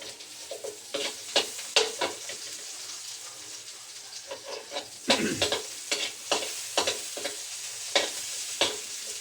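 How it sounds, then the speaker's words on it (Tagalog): Onion, garlic and ginger sautéing in a pan, with a soft sizzle under repeated scraping stirs of a spatula, close and moderately quiet. "Igisa natin yung guys ang sibuyas, bawang at luya para maango."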